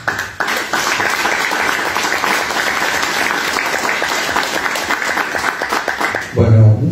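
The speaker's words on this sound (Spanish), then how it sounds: "Nunca hay que aplaudir antes de escuchar al orador" An audience breaks into sustained, loud applause, dense clapping that holds steady for several seconds before fading as a voice begins to speak.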